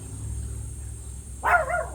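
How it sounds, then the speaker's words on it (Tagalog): A small dog lets out a single short, sharp yap near the end after a quiet stretch of low background hum. "Ayun, nagyayabang ang aming maliit na aso."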